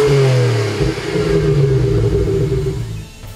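A BMW 1 Series M Coupé engine revs hard and accelerates, a loud, close, rising rumbling drone that eases off near the end.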